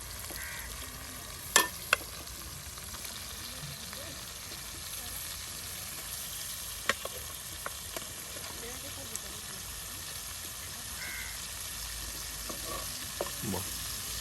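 Meat goes into a hot pan and fries with a steady sizzle while being stirred, a few sharp scrapes and clinks of the spoon standing out over the constant hiss during outdoor cooking by a Bede family in Bangladesh.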